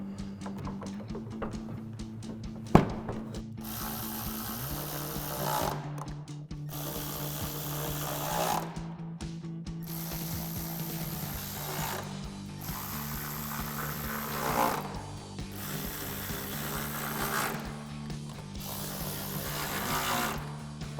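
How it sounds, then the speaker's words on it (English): A ratchet tightens six 10mm bolts while a headlight goes back into a 2020-2023 Silverado 2500. It gives a series of separate whirring bursts with short gaps, a sharp knock early on and a steady low hum underneath. "we now reinstall our headlight and our 6 10mm bolts that we took out."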